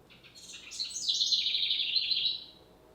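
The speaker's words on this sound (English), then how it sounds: "Cute little bird." A small bird chirps close by in a quiet room, giving a bright rising and falling run of high, rapid twittering notes that swells for about two seconds and then fades out.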